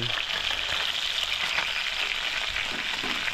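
Food sizzles steadily in a hot pan while being toasted, a dense continuous crackle and hiss at close range with no pauses.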